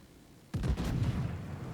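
Secondary guns of the battleship Ohio fire in the World of Warships naval game, a sudden loud booming burst after a quiet moment, followed by a rumbling, crackling tail.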